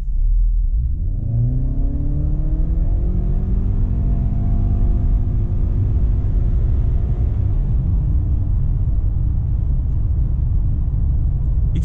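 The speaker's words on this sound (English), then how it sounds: "It sounds like a CVT gearbox" A 2020 Honda CR-V Hybrid accelerating hard in sport mode through its CVT gearbox, a loud, steady engine drone that rises smoothly and holds, heard from inside the cabin for about twelve seconds with no talking.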